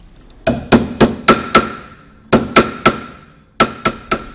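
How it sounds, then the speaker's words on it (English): Loud metallic hammer blows on a metal dome in three bursts of four or five evenly spaced strikes, each ringing briefly, with short pauses between groups. "one of my favourite processes being hammering and bashing the metal about"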